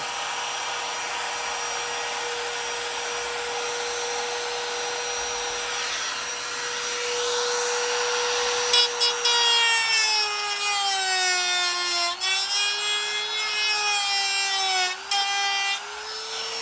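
A router cuts into wood for a Paul Reed Smith EverTune guitar bridge install, a loud continuous high whine that drops in pitch and wavers as the bit bites, with no talking.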